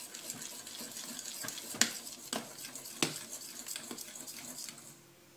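Chocolate and cream being mixed together for chocolate mousse, with a steady scraping and clinking of a utensil against a bowl and a few sharper knocks, close up and with no talking.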